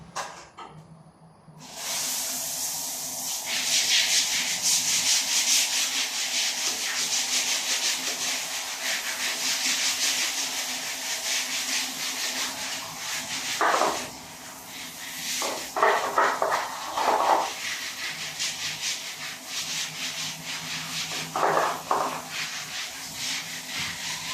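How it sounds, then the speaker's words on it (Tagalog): Stiff brush scrubbing dirty, hair-strewn bathroom tiles with steady back-and-forth rubbing strokes, close and continuous, with a few brief sharper bursts partway through; no talking. "Teka lang natin kuskusin para maging malinis. Maraming buhok-buhok at maraming itim-itim na tiles."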